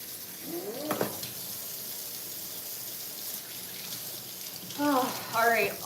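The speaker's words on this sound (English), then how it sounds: "and then rinse my hands" Tap water runs steadily into a kitchen sink as hands are rinsed after prepping cabbage. Short tonal, voice-like sounds rise over the rush of water near the start and again toward the end.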